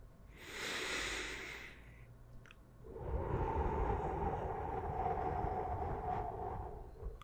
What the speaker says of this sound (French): On va faire encore 5 petites respirations et après je vais te laisser dormir.